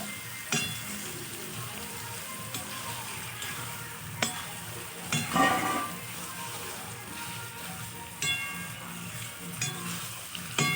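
Mutton pieces fry and get stirred in a pan, giving a continuous soft sizzle with intermittent scrapes and clinks of the spoon against the pan, close up and quiet, with no talk.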